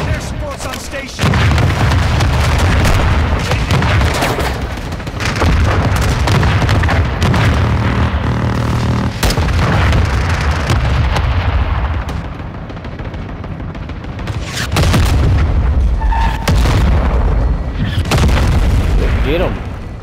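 Heavy explosions from an air support strike in the Modern Warfare 2 Remastered shooter, repeated deep booms rolling over dense battle noise for most of the stretch, with brief lulls and voices shouting among the blasts.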